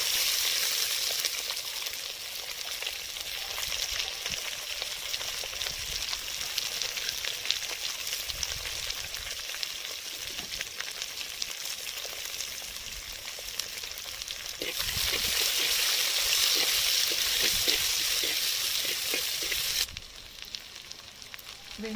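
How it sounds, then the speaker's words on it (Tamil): Onions sauté in hot oil with mustard seeds, cumin and curry leaves for a village-style pumpkin curry, a steady close sizzle and crackle with bursts of stirring, growing louder briefly before easing near the end. "அதுக்கப்புறம் வெங்காயம் கட் பண்ணி வச்ச வெங்காயத்தை சேர்த்து நல்லா வதக்கி விடலாம்"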